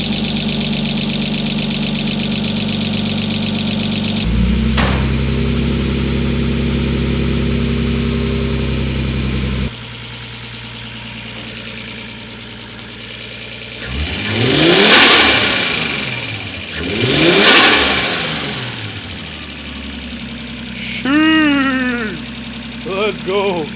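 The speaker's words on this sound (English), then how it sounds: "I know, I revved a cold motor." A Nissan S13 with a water-flooded RB engine idles steadily cold, then revs hard twice in quick succession, rising and falling loudly before settling back; a brief voice comes near the end.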